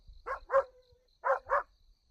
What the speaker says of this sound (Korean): 타케루가 그 수풀을 향해서 물러서지 않고 짖고 있는 것이다